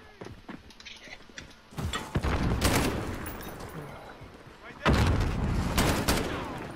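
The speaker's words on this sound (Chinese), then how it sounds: "又听到枪声，那人到底在哪里呢？" Gunfire in Call of Duty Modern Warfare multiplayer on PS4, a few scattered distant pops at first, then two loud bursts of rapid automatic fire with rumbling echoes, close and heavy.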